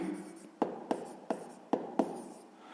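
Chalk or pen taps and strokes by hand during a sixth-grade math lesson, five short distinct knocks spaced unevenly over quiet room tone, close and moderately soft.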